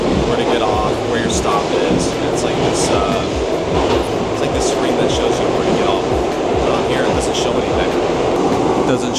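A New York City subway train rumbles along with a steady roar and rattling clatter, heard from inside the car; faint voices blend into the noise.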